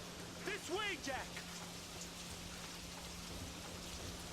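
A thunderstorm in Peter Jackson's King Kong game for PS2 brings continuous heavy rain hissing over a deep rumble, with a brief voice speaking near the start.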